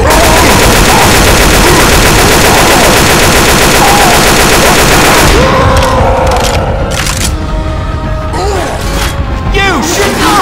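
Loud, dense machine-gun fire in a multiplayer shooter, a continuous rattling stream that breaks into scattered shots and booms partway through, with faint voices under the noise.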